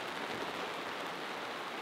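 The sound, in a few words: rain on a sailboat at sea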